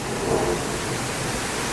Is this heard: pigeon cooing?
no